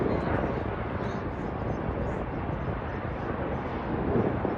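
An aircraft flies overhead above the Ohio River in Louisville during the Kentucky Derby Festival, a loud broad engine roar that holds steady throughout.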